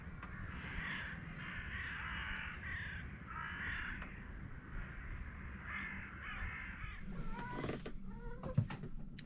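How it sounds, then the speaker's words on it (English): Crows caw repeatedly around a sailboat at anchor, harsh calls in irregular bursts at moderate distance over a constant low wash of wind and water, ending with a few knocks and clatters nearby. "What do you think of all the birds?"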